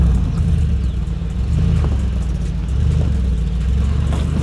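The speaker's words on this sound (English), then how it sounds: "Impressive wheel spin to push forward." A Mercedes G63 G-Wagon engine revs hard off-road as its wheels spin, producing a loud, continuous deep rumble with a strained, surging roar.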